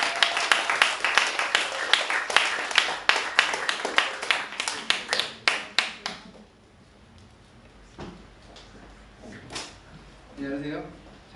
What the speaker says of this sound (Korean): 주식회사 영웅교육 입시전략실장 박영민 실장님을 큰 박수를 모시겠습니다.